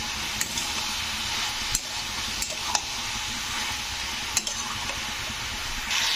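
Bottle gourd sautés in a pan with turmeric and chilli powder, a steady soft sizzle with a few sharp spoon taps and stirring scrapes.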